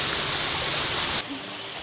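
A waterfall roars with a dense, steady hiss of rushing water that drops abruptly to a quieter, muffled wash partway through. No voices are heard.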